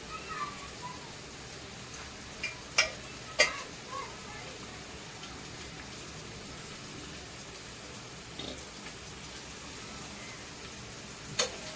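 Marinated mutton fries and gets stirred in a wok, giving a soft continuous sizzle broken by a few sharp scraping clicks of the spoon, fairly quiet, with no voices.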